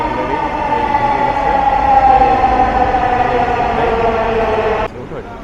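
A Dhaka metro rail train pulls into Kazipara station, a loud close rising-and-falling electric whine with steady rolling rumble that cuts off abruptly near the end, leaving quieter station ambience.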